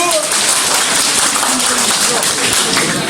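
Applause at a company's 15th annual shareholders' meeting: a thick, continuous wash of many hands clapping together, evenly loud from start to finish with no break.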